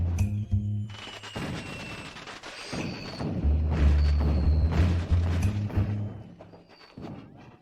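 Fireworks going off at night, a run of booming bursts and crackles, some deep thuds and sharper bangs spread over several seconds with brief lulls between volleys, moderately loud and fairly close.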